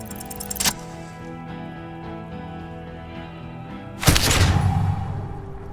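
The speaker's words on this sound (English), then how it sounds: "A plume of smoke and fire erupts from the gun, and your hand goes numb from the explosion" A gunshot in Disco Elysium: Final Cut lands as a sudden loud burst with a crackling, noisy tail over low background music, after a brief sharp clatter earlier on.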